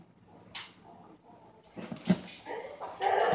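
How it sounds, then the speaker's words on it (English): Several dogs at home bark, yip and whimper in short scattered bursts, growing louder and busier toward the end, with no talking. "So the dogs have calmed down"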